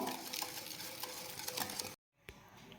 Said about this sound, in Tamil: இதை நல்லா மிக்ஸ் பண்ணிட்டு விடுவோம்